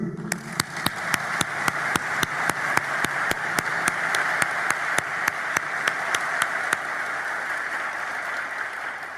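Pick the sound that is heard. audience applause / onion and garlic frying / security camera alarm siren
audience applause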